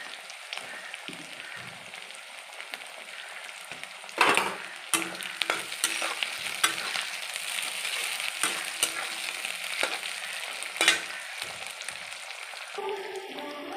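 Capsicum stir-fries in a hot pan for chilli paneer, a steady sizzle broken by repeated sharp scraping and clattering strokes of a spatula, close and alone without talk.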